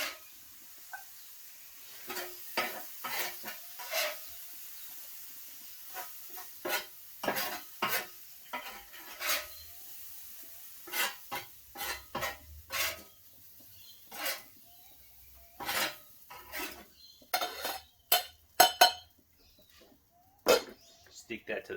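Cooked mushrooms tipped into a cooking pot and stirred, giving a series of sharp scraping and clinking utensil strikes against the pot, fairly close, with a faint sizzle beneath and no talk.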